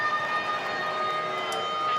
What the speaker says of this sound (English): Siren sounds.